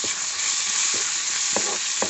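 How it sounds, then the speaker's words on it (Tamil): Onions fried with turmeric powder for a mushroom gravy are stirred in a pan: a steady, close, loud sizzle runs throughout, with a few soft scraping strokes of the spoon toward the end. "அதை நல்லா மிக்ஸ் பண்ணி விட்டுக்கலாம்."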